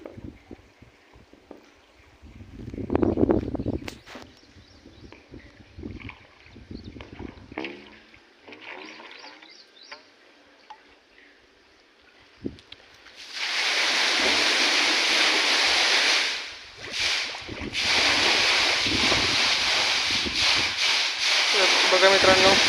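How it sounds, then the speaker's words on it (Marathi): Water from a 5 HP solar-powered pump starts gushing in hot sun, first quiet outdoor sounds with someone talking, then a sudden loud, steady rushing splash that keeps going to the end. "5च्या पंपाची धार दाखवतो। आता थोड्याच वेळात आपली मोटर सुरू होईल।"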